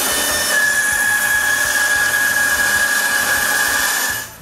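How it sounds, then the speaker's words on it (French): A drill bores a centre hole into a square block of wood for a handle, one steady high-pitched whine held for about four seconds before it cuts off. "Ensuite, je perce un trou en plein centre de la même grosseur que le trou de mon nouveau mandrin."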